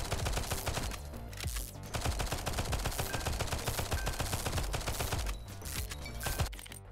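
Rapid gunfire and explosive bursts from a weapon hit elite enemies in a video game. The shots come in a dense, continuous stream with brief pauses, loud and close.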